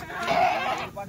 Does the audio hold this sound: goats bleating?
yes